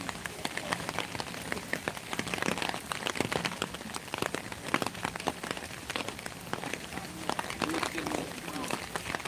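Steady rain falls on wet ground at an outdoor memorial site in Hiroshima, a dense hiss of patter with scattered nearby drips and rustles, and faint voices in the background.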